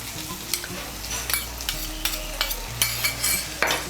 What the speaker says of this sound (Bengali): টমেটো বাটাটাকেও মিশিয়ে নেব। মিশিয়ে নিয়ে একটু ভেজে নেব।